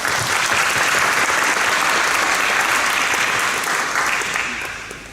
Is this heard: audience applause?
yes